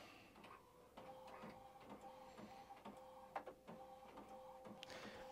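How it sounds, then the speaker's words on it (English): Inkjet printer with a clogged print head running a print, soft rhythmic mechanical whirring and clicking of the carriage, quiet and close, with a steady tone underneath. "I'm actually going to let it print a little bit of this just to show you that magenta is not printing at all."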